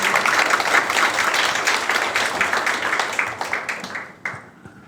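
Audience at a youth history research competition applauding middle-school students' presentation, loud close clapping that thins into scattered individual claps and fades out over about five seconds.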